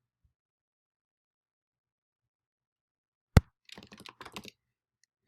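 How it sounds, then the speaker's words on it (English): A computer keyboard is used to type a client's name into a software field: one sharp thunk, then a short quick burst of clicky keystrokes in an otherwise silent room. "you'll want to start typing in the client's name"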